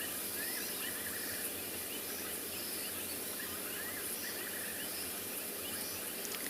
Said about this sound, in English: Oh, listen to the sounds of the frogs and the fiery neck nightjar going in the background.